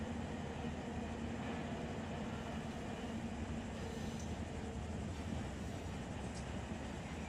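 A freight train in the Run 8 railroad simulator game rolls along a main line, a continuous low rumbling drone of wheels and cars with faint squeals and clicks, steady and unbroken throughout.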